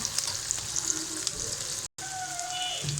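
Chopped onion, garlic and green chili frying in oil in a wok, a steady close sizzle with faint stirring scrapes running throughout, broken by a brief silent gap near the end.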